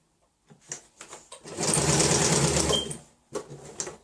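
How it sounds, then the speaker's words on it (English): A sewing machine stitches fabric in a steady rapid whir for about a second and a half, framed by soft clicks and handling noises before and after. "when you're sewing, you're able to sew corners and turn corners without taking the old fabric out of your sewing machine"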